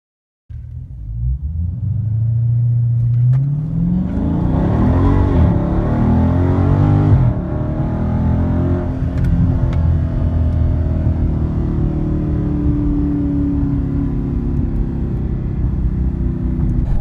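A Dodge Charger Scat Pack V8 on Atturo AZ850 performance tires launches hard from a standstill, its engine roaring loud and close as revs climb through a gear change, then holding a strong steady drone at speed.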